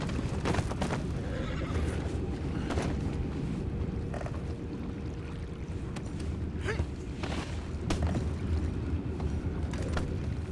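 Horse neighing in Red Dead Redemption 2, whinnies over a steady bed of hoof clip-clops and ambient outdoor noise, moderately faint throughout with no talk.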